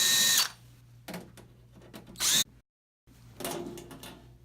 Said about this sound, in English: To remove the service panel, remove the outer 6 screws completely and just loosen up the bottom 3